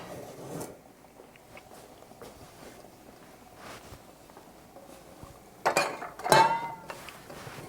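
A lid goes onto a cooking pot on a home stovetop while steamed fish is prepared, giving two close metallic clanks near the end after a stretch of quiet kitchen background.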